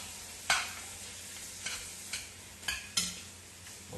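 Chicken thigh and cubed deboned pork chop pieces fry in a pot on high heat, giving a steady soft sizzle broken by several sharp scraping stirs.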